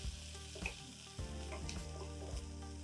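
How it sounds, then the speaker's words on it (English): Onions frying in oil and being stirred, a steady soft sizzle broken by a few scraping stirs, close and quiet with no talk. "Next, I'm gonna add some onions. Give that a good stir."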